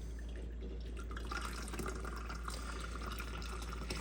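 Clear broth for Hungarian aspic (kocsonya) is poured, giving a soft, steady trickling and splashing of liquid that runs quietly and evenly throughout with no voices.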